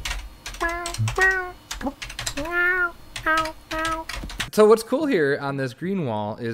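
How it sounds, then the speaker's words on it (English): A pet cat meows several times in a row, close to the microphone, while people talk casually over a video call beforehand and alongside it. "I'm sorry for my cat. She's excited to see us all, I guess."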